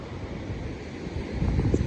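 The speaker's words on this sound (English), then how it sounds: "Crashing waves." Waves crashing on a beach at night, a low steady roar of surf mixed with wind buffeting the microphone, swelling slightly louder near the end.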